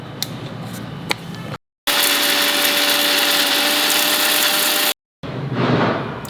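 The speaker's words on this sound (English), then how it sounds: "the dry roasted masala, I will grind it. Why am I grinding it separately?" Electric mixer grinder running hard on dry roasted masala spices with coriander seeds, a loud steady whine in two bursts separated by a short silence, then a third burst starting, after a couple of faint clicks.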